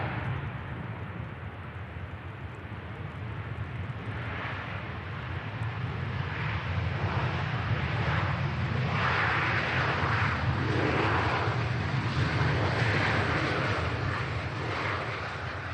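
Aircraft at Manchester Airport, with Pegasus and Aer Lingus A320 jets queuing to depart, a continuous broad jet engine roar that swells gradually and holds loud throughout.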